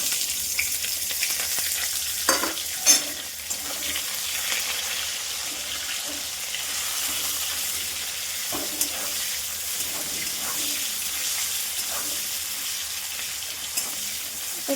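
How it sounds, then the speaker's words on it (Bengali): Chopped onions and green chillies fry in hot oil with five-spice seeds, giving a continuous close sizzle with occasional scraping stirs and no talk. "পেঁয়াজটা ভাজা হতে থাক"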